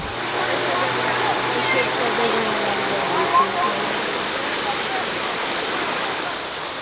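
Continuous rushing water, a steady broad wash like a flowing creek, fairly close and loud with no pauses.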